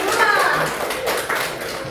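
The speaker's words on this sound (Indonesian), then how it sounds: "Beri tepuk tangan yang meriah untuk teman-teman." A high school geography class applauding classmates, a brief burst of clapping in a classroom with children's voices mixed in.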